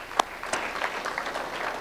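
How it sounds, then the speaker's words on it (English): Applause from an audience at a Black History Month 2024 celebration, a steady wash of clapping lasting under two seconds, moderately loud and alone with no talk over it. "Let's give them a round of applause"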